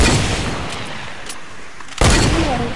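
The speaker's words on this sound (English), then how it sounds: "I'm shooting a hand cannon" Hand cannon gunfire in the Fortnite video game, with loud broadband shot blasts, including a sharp burst near the end, over a constant noisy game background.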